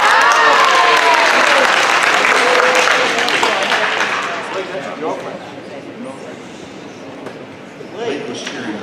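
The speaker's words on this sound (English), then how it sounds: "Blake was cheering really loud for" A school awards ceremony crowd erupts in loud cheering and clapping, the applause dense and sustained before tapering off, with whoops and voices mixed in.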